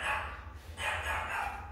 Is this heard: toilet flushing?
no